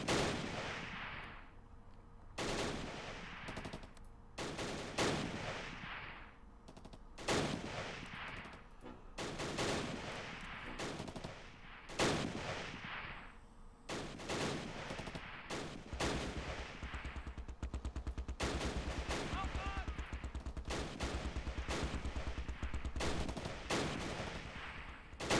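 Mortar blasts and gunfire in the Close Combat: Last Stand Arnhem war game, a dense run of loud booming impacts and rattling shots, repeating nearly without pause, no talk.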